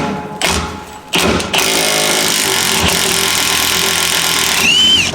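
A Milwaukee impact wrench hammers hard at a fastener set in the rear axle hub of a Kangoo during a suspension job, a loud, dense, continuous rattling roar that runs for several seconds with a brief dip early on.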